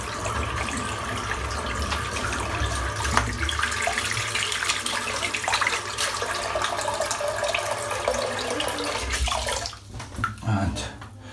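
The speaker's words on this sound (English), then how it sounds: "While I'm still going to wet my head," Tap water pours steadily into a basin to wet the head before a shave, a loud, continuous gushing rush that holds for most of the stretch before briefly thinning near the end.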